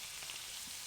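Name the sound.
garlic sizzling in hot avocado oil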